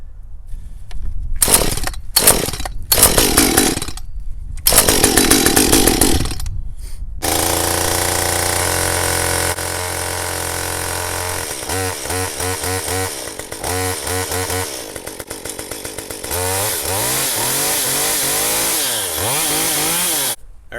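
Stihl MS 193 C chainsaw being pull-started: several sharp cord pulls with brief sputters, then the engine catches and runs loud and close, revving up and down repeatedly.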